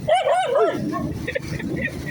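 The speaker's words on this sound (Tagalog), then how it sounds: "may nakahabol na kami na aso" Dogs bark and yip while chasing motorcycle riders, a burst of high, wavering yelps up front followed by more scattered barks, close and loud over engine and road noise.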